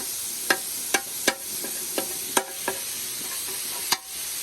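Carne asada cooking on a Blackstone griddle at a trailside camp: a steady sizzle with sharp scraping and stirring clicks from a spatula at irregular intervals, close and fairly loud, with no talk.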